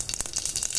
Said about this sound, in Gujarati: તુવેર દાળની ખીચડી માટે વઘાર કરી લઈએ. રાઈ નાખી દીધી છે,